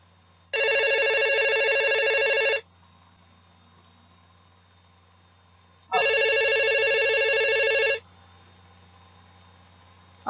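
A telephone rings in two long electronic bursts separated by a pause, loud and close, with a faint engine hum underneath.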